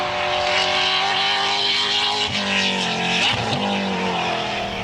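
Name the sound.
Holden race car driving and skidding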